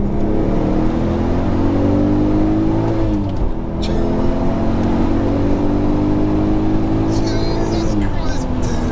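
A tuned 462bhp VW Golf R32 turbo engine revs hard and close, its pitch climbing steadily for several seconds, dropping briefly, then rising again in a sustained loud roar.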